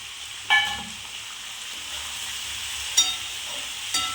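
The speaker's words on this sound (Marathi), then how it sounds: "सर्व आता मसाले परतून घेणार आहे असे." Powdered spices (chili, turmeric, coriander powder and black masala) roasting in a frying pan for a Bhogi vegetable dish give a steady soft sizzle, broken by three sharp stirring scrapes, close and moderately quiet.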